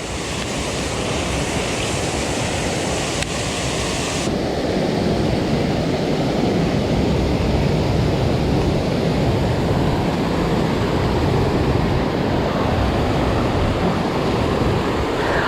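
Constant flowing water pours over a creek spillway, a loud, unbroken rushing roar that holds steady throughout with no voices.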